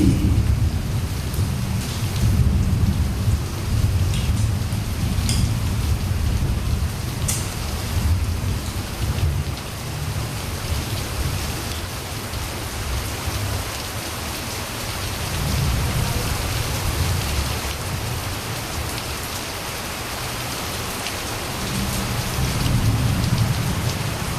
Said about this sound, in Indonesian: Kita ini lagi hujan.